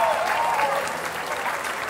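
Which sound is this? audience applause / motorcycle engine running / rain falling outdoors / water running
audience applause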